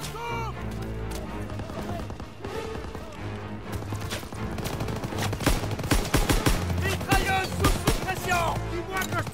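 Covering gunfire in Call of Duty WWII, with dense rattling bursts of rifle and machine-gun fire and impacts that build steadily louder, mixed with shouted voices.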